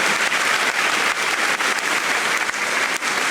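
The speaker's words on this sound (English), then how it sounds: "Ladies and gentlemen, with a resounding round of applause, I introduce Nei Gati VII with his entourage." A university public-lecture audience gives a resounding round of applause welcoming a paramount chief and his entourage, a loud, dense, unbroken roar of clapping with no speech over it.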